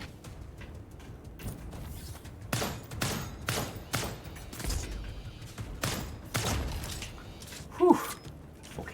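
Video game gunfire from a demo, a series of sharp close shots at irregular intervals with scattered bursts, mixed with game noise and a brief tonal effect near the end.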